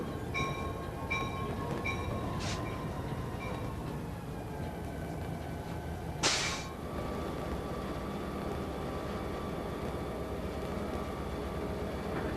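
A Conrail helper locomotive set runs east from Johnstown toward Horseshoe Curve, heard as a steady loud rumble and drone from on board, with faint whistling tones early on and one brief burst of noise midway.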